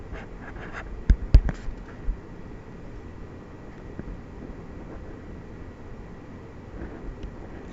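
Chalk or marker strokes on a lecture board, a few sharp taps and scratchy strokes early on, then faint intermittent scribbling over a quiet room hum.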